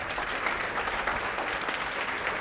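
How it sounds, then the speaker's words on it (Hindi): Students rise and clap to greet a general studies teacher from Prayagraj, a thick, even roar of applause that holds at steady volume throughout, with no voices over it. "जोरदार तालियों से इन सर का स्वागत होना चाहिए।"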